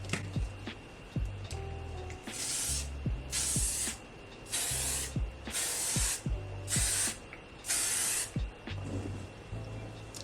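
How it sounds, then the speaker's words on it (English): Makeup setting spray sprayed in six clear bursts of hissing mist, each about half a second long, evenly spaced with short pauses between, close to the mic over a faint low background. "I'm going in with the second setting spray"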